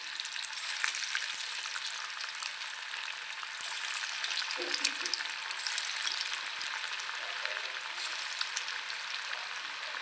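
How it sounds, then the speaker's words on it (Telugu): Paneer pieces frying in a pan, a steady close crackling sizzle with fine spattering pops throughout, fairly quiet and even, no voices. "మనకి ప్యాన్కి సరిపడా పన్నీర్ పీసెస్ వేసుకుందాము"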